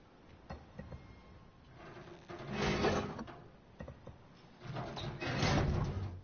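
A heavy door slides or swings open inside a dark tanker in Resident Evil 7, two loud scraping mechanical surges rising then fading, with no talk.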